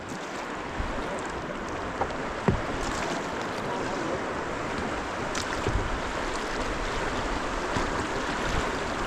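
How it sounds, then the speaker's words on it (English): A kayak paddles straight into a moving river current, the steady wash of flowing water filling the scene with occasional paddle splashes and knocks, close and continuous with no talk. "You can practice your control by just paddling straight into the current."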